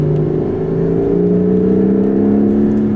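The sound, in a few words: roar of Porsche 911 Carrera GTS hybrid 3.6 engine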